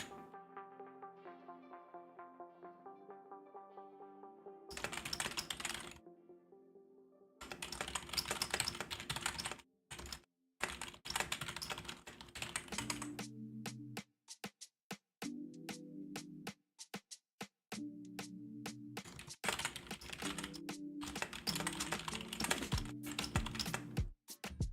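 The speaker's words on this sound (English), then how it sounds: "Just typing something out quickly." Quick bursts of typing on a computer keyboard, clattering keys in rapid runs with brief pauses, heard close and clear over soft tonal music in the background.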